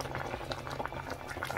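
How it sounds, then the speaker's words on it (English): Sauce boiling in a pot for a traditional snake-like delicacy, a steady close bubbling and gurgling with soft pops throughout, no voices. "pour this whole mixture into our sauce that is boiling"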